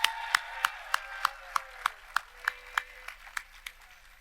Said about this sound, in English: So if you all do one last final applause for Caleb Jennis and Will McPhillips.